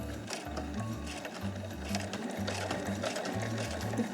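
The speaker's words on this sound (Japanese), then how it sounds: "縫い込みしないようにゆっくり縫っていきます" A sewing machine stitches slowly along the side seam of a smartphone pochette with a zipper pocket, its motor whirring in short steady bursts that stop and restart in a regular rhythm, close and alone.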